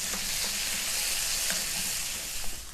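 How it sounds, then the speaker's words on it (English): Chopped green chilies and onions sizzle in hot oil in a stir-fry pan for a chicken and veggie stir fry, a steady bright hiss with faint crackles throughout, close and alone. "just add the chopped green chilies. And then immediately add the onions."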